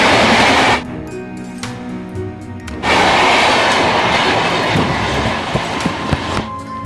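A train rumbles loudly nearby with a steady, heavy roar and a brief lull, with faint rattling clicks over it and no clear talking.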